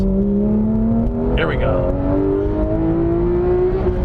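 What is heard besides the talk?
Porsche 991 GT3 engine revving above 7,000 rpm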